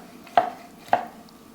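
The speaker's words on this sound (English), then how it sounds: "Now let's cut this open just to show you what this looks like." Knife cutting open a pot-fried burger on a chopping block: two sharp, separate chops about half a second apart, close and fairly loud over a quiet background.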